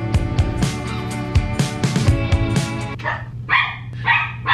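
A dog barks loudly and repeatedly in close, sharp bursts over a steady humming background, with the barks growing more spaced toward the end.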